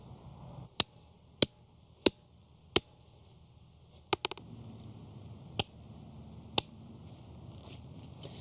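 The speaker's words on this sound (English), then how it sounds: "We can come in with the chisel and the hammer and cut it away" A hammer drives a chisel into a girdling tree root outdoors. Sharp, sparse knocks ring out one at a time at irregular intervals, fairly close but not loud, over a faint background.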